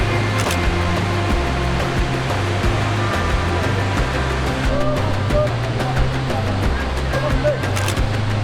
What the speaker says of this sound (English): we got the opportunity to have a boat ride, get really close to the waterfall